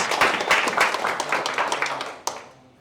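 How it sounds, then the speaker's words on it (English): A small training-room audience applauds at a team building session, brisk uneven clapping that dies away after about two seconds, ending with a single sharp knock before near silence. "Yes, that deserves a round of applause."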